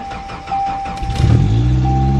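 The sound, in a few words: Ford Ranger pickup engine cold start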